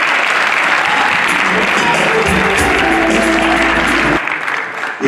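A festival audience applauds steadily and loudly through most of the stretch, a dense wash of clapping that thins slightly near the end.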